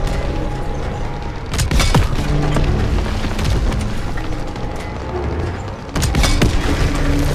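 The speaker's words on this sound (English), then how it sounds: "Enemy tank destroyed!" Enemy tank explodes in Call of Duty WW2, with heavy booms and cracking bursts at the start and again near the end over a steady rumble of battle noise.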